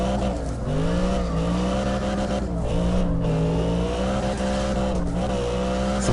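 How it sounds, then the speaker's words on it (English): Drifting car in CarX Drift Racing Online, tires warming up before a run: a steady, loud engine drone with rising and falling pitch as revs swing, tire squeal woven through, continuous and close for the whole stretch. "Warming up those tires a little bit."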